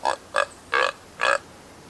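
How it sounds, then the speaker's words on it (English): Hawk call from a hunting caller in the game Way of the Hunter, four short raspy shrieks in an uneven rhythm, loud and close with no talking. "Hawk collar sounds like this."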